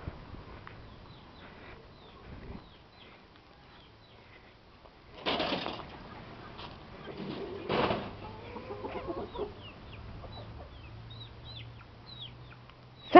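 Chickens on a farm cluck and squawk: a few sharp loud calls stand out among softer scattered clucks and faint bird chirps, alone with no talking.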